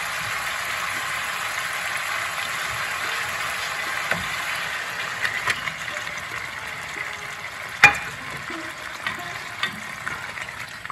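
Chicken frying in oil over a spiced masala in a pan, a continuous dense sizzle with scattered small pops and a single sharp clack partway through.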